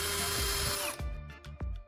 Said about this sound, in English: this drill and a drill bit, attempting to make holes in this metal piece